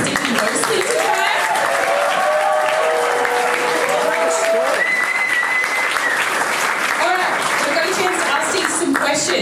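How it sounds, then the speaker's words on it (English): Sustained audience applause for a speaker at a Nerd Nite talk night, a loud, continuous crowd clap with cheers and whoops rising over it throughout. "he deserves an extra round of applause"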